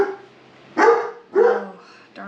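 Dogs barking at a farm home, three sharp close barks in quick succession, loud and clear.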